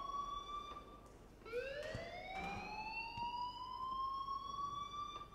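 An alarm rings in the video game Life is Strange, a loud electronic siren-like tone sweeping upward and holding steady across several seconds, with no speech over it.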